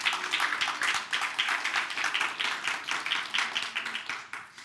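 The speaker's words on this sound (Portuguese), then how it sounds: "Uma salva de palmas." A church congregation gives a round of applause, dense clapping sustained and fairly loud for several seconds before tapering off slightly at the end, with no talk over it.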